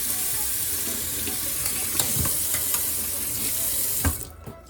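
Running tap water splashes steadily while an old paint brush is rinsed under it, a close, continuous hiss and patter with small clinks, cutting off just before the end.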